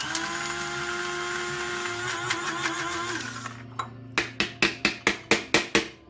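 An overheating kitchen grinder machine runs a coarse grind, holding a steady motor whine before breaking into a series of about eight loud, evenly spaced pulsing bursts.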